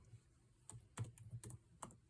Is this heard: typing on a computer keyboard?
yes